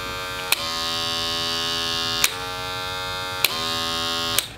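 Cordless hair clippers with a surgical blade buzz steadily and loudly up close, a dense motorized hum with faint clicks recurring every second or so.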